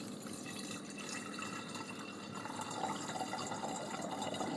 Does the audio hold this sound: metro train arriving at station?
no